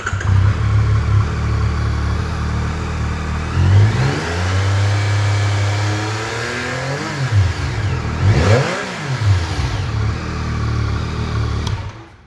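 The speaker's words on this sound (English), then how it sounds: "you can tell just by the sound that it's that triple engine just has a little bit of a different ring to it" A stock 2025 Yamaha R9 with a triple-cylinder engine and factory exhaust idles nearby, then revs up several times with rising and falling sweeps before settling back to a steady idle.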